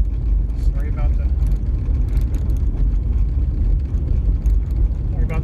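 Steady low rumble of a car driving on a gravel road, continuous road noise filling the whole stretch with occasional crunchy rattles on top.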